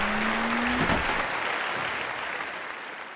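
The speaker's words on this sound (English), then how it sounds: "Give Isaac a round of applause." An audience claps after a song at a youth audio-production mixtape showcase in Geneva: dense, even applause starts loud and slowly fades, and a brief held tone sounds at the very start.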